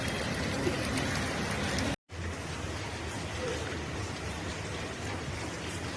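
Steady monsoon rain falls outside in a dense, even hiss that continues across the whole stretch, with a brief dropout near the start and no voices.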